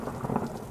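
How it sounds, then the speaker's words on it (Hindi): A cartoon thunderstorm with heavy rain, a brief burst of dense rain with a low thunder rumble. "बारिश थमने के नाम ही नहीं ले रही।"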